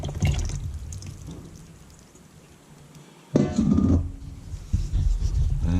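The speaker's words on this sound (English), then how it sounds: "Let's get our dry bowl back. In with our wet ingredients." Wet ingredients for a chocolate cake poured into a bowl of dry ingredients, a close liquid glug and splash after a quieter stretch, followed by a bit of clinking handling.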